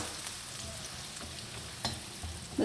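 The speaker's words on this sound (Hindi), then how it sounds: "इसके अंदर ये वाइट ऑनियन, जो ग्रीन ऑनियन का वाइट पार्ट ये डालेंगे। चलाएंगे 30 सेकेंड।" The white part of green onions stir-fried in a pan for a mutton spring roll filling, giving a steady soft sizzle with occasional light scrapes and taps of stirring.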